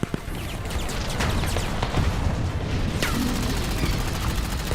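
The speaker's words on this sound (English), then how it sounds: "The sound of gunfire, explosions, and tearing metal weave together into a chaotic cacophony" Chaotic battle din of gunfire and explosions in the Girls' Frontline game during a laboratory fight, with dense sustained crackling bursts, sharp impacts and a loud boom near the middle, continuous and close.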